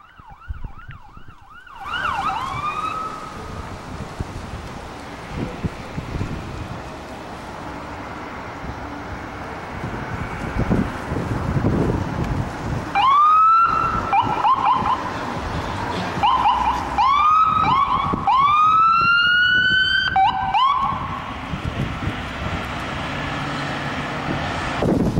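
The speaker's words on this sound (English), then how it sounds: "There's an ambulance." An ambulance siren on a street in Pontiac approaches, its wailing and yelping tones rising and falling in repeated sweeps, growing louder as it passes close by over traffic rumble.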